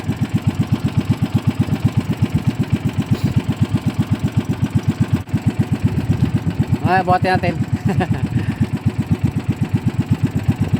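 A small fishing boat engine idles steadily with a loud, regular thumping pulse throughout, while someone speaks briefly over it.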